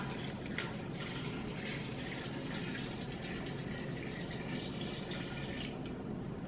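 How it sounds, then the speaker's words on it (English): Three cups of water poured over dry lasagna noodles in an Instant Pot, a steady rushing splash that runs evenly from start to finish, close up and alone. "So you add 3 cups of water and you just pour it on top."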